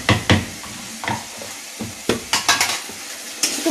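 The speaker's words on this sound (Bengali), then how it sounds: "একটু ভালোভাবে একটু নাড়াচাড়া করে নিই।" A spatula scrapes and knocks around a pan of prawn malai curry cooked with yogurt and green chillies, close up, the food softly sizzling beneath a run of irregular stirring strokes.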